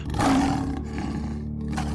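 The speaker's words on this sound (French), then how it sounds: "Il se jette sur les hyènes pour protéger Simba. N'approchez plus jamais de mon fils, rugit-il." A lion roars once as a sound effect in a French children's bedtime retelling of The Lion King, when Mufasa attacks the hyenas. The roar is loud, deep and rumbling, heard alone with no talk.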